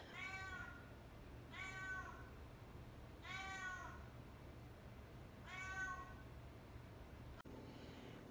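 A house cat meows four times at a relaxed, uneven pace, each call clear and moderately close over a quiet room hum, with no talking.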